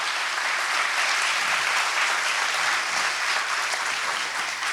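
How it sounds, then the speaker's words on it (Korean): A studio audience at a Korean talk show bursts into sustained applause, a thick, even wash of many hands clapping close by for several seconds without pause. "박수 한번 좀 부탁드리겠습니다."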